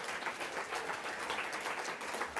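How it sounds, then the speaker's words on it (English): Audience at a grants panel event applauding a panel member: steady, dense clapping throughout, moderately distant and soft, with no voices on top. "Give Tony a big round of applause."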